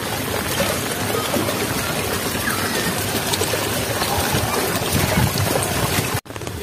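Floodwater rushing through a flooded village wetland, a constant loud broadband wash close to the mic with wind buffeting, cut by a short dropout near the end.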